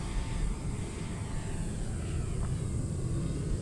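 A foam RC de Havilland Mosquito scale warbird flies past with its electric motors giving a steady, moderately loud whine and rushing hum, heard continuously outdoors with no talking.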